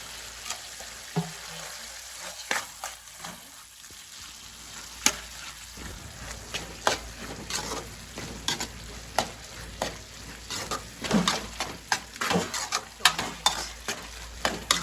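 Onion masala sizzles and fries in a pan as ginger garlic paste goes in, with steady frying hiss and repeated sharp scraping and stirring knocks growing busier toward the end.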